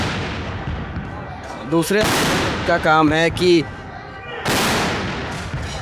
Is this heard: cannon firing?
yes